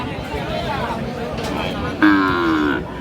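A Sahiwal cow lets out a loud, drawn-out moo near the end, over a background of cattle-market crowd chatter and murmuring voices.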